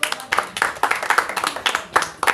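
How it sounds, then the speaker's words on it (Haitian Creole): An audience applauds for a girl named Sarah, the claps coming in irregular bursts of fairly close, moderate hand-claps with short gaps between them. "Je vous demande d'applaudir Sarah."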